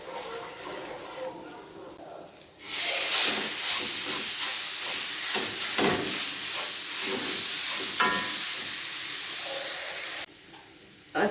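Ground beef drops into a pan with garlic and onion and bursts into a loud, even sizzle that holds for several seconds, then cuts back to a quieter background.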